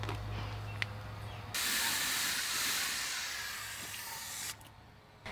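A spray bottle mists water over freshly sown onion seeds in garden pots to settle the soil, a steady close hiss lasting about three seconds, alone with no talk.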